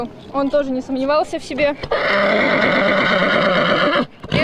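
A horse at a competition in Dagestan lets out a long, loud, close whinny after a win. It follows a short stretch of speech and carries on steadily for about two seconds.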